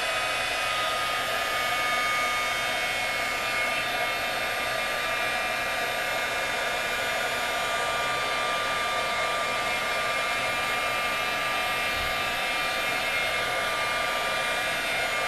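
A heat tool blows steadily to melt embossing powder on a card, giving a loud, continuous whooshing hiss like a hair dryer that holds unbroken from start to finish with no voices.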